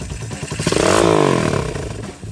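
Close exhaust note from a 2010 Honda Tiger Revo motorcycle enlarged to 213 cc, with one loud throttle rev that climbs, holds briefly and falls back toward idle.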